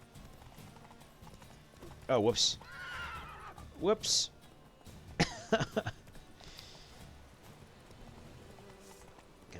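Horse hooves clip-clop and a horse neighs in The Witcher 3, with two short whinnies and a quick burst of hoofbeats standing out over quiet game ambience while someone talks briefly.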